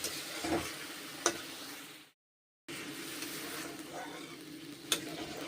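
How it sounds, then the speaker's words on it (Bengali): Spice masala with garlic and onion paste fries in a pan, a moderate hiss marked by a few sharp stirring clicks and cut by a short silent gap midway. "এখন ভেজে নিচ্ছি কষে নিচ্ছি মশলা"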